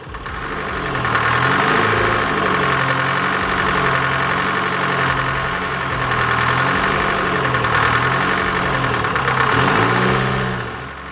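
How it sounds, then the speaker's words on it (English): A Detroit Diesel 453T turbo diesel engine rated at 160 horsepower, with damaged new turbo compressor wheels, runs loud and close with a steady rough rumble and a rhythmic wavering throb, over a bright turbo whine. "facing a real headache with this Detroit diesel 453T pushing"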